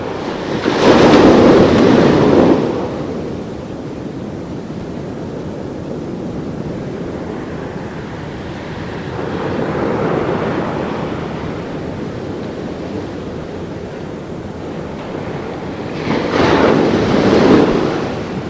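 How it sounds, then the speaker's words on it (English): Big ocean waves break on a sandy, rocky shore three times, each surge rising into a loud wash, with steady surf and wind rumbling between the breaks and no talk. "The waves are becoming very big."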